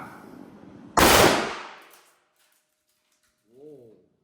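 A Zoraki 914 blank pistol fires on full auto as one loud, sharp burst that rings off and fades within about a second, followed by quiet and a faint short tonal sound.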